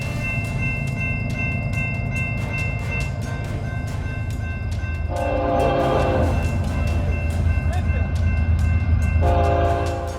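A train rolls past close by with steady rumbling and rhythmic clicking of wheels on rail joints, while a loud horn sounds in two long blasts over the noise; no one speaks.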